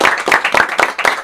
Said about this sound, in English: Y'all clap it up for them